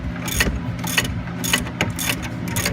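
A ratchet turns a bolt on the rear brake of a 2013 Dodge Charger, clicking in quick bursts of pawl ticks with short pauses between strokes, close and loud with no talk.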